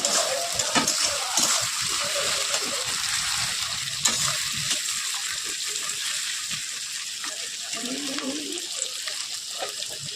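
Onions for a chicken curry frying in a pan, a steady hissing sizzle with occasional stirring scrapes, close and fairly even throughout.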